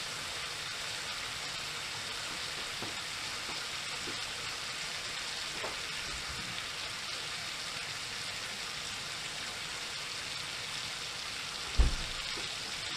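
Bacon fries in a pan alongside broccoli florets, giving a steady, even sizzle that stays close and constant, with a single soft thump near the end.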